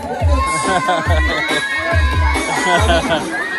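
A lively crowd at a ribbon-cutting event claps, cheers and shouts, with children's voices and chatter mixed in and a strong rhythmic music beat pulsing underneath.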